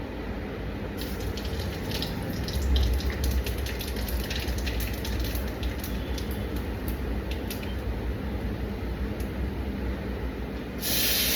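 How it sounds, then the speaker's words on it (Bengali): Pieces of fish fry in hot oil tempered with black cumin in a pan, a dense, steady sizzling hiss that carries on without a break and stays close, with no voices. "মাছটাকে ভাজছি"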